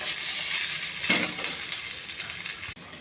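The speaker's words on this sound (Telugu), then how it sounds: "సన్నగా కోసి పెట్టుకుని ఉల్లిపాయలు అండి. ఇవి కూడా ఎగస్టాలి, దోరగా ఎగస్టాలి." Onions sizzle steadily in hot oil with mustard seeds, curry leaves and cumin, a constant close hiss with a brief stirring scrape midway before it cuts off abruptly.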